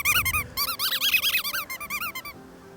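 A squeaky dog toy squeezed over and over in quick bursts of high, pitched squeaks, loud and close, with brief pauses between runs and no talking.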